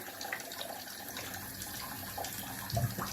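Water splashing from a running tap as a face is re-wetted before a traditional wet shave, a faint steady trickle close by with soft splashes near the end.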